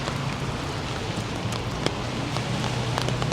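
Steady broadband rain falling in Kuala Lumpur, soft continuous patter with scattered close drop hits, alone with no voices.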